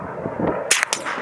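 Rifle shots at spinner targets, a .308 Win or .22LR, crack out: a faint pop followed by two sharp, loud reports in quick succession, with no voices.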